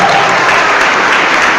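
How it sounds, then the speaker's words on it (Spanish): A church congregation claps loudly and steadily, a dense continuous roar of hands throughout with no pauses. "Aplauso fuerte, que se oiga, aplauso"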